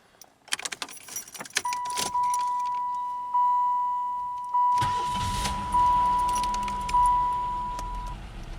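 An old Pontiac Grand Prix starts from cold: a jingle of keys, a steady warning chime, then the starter cranks and the engine catches and settles into a loud, high idle, with the chime continuing.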